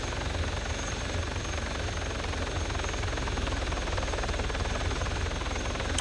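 A video game helicopter giving off a steady, loud rotor and engine drone that holds unchanged throughout, with no other sounds on top.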